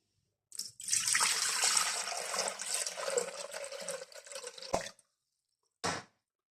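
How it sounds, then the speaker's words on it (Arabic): About a litre of water pours into a Thermomix bowl up to the first mark, ready for cooking eggs; a steady splashing gush runs for about four seconds, then a brief trickle follows after a short pause. "اول شيء خصنا نديرو الماء لحد هاد رقم 1"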